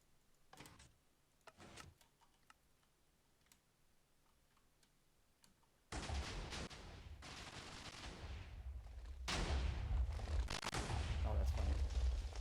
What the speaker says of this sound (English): Let me turn on the nuke again.